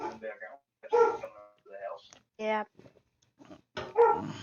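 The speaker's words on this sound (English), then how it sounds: "Sorry about the dogs in the background." Several dogs bark in short bursts in a house, mixed with a person speaking nearby.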